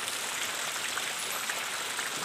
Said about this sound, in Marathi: हा बघा पाऊस किती लागतो.